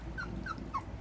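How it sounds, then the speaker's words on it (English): Young bully and French bulldog pups at feeding time give three short, high, thin whimpers in quick succession, faint over a low background rumble. "Look at that pup."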